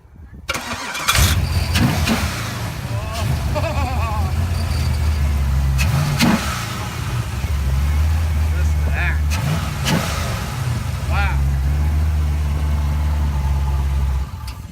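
A 1968 AMC AMX with a 343 engine cranks and starts at an outdoor swap meet, then rumbles loudly with repeated revs and settles into a rough idle, while people talk nearby.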